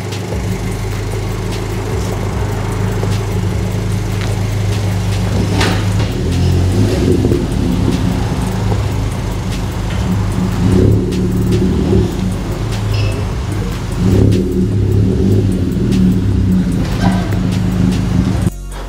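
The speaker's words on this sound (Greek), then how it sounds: "Golf GTI σε πανέμορφο κόκκινο χρώμα." A red Volkswagen Golf GTI, lowered on adjustable suspension, idles with a loud, steady low rumble, with a few brief swells in engine note over about nineteen seconds.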